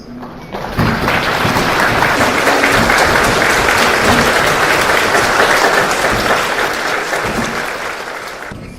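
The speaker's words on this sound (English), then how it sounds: "please rise and give a huge round of applause to welcome the distinguished Rinpoche" A standing audience gives a loud, sustained round of applause to welcome a Rinpoche at an opening ceremony, a dense wash of clapping that starts within the first second and carries steadily to the end.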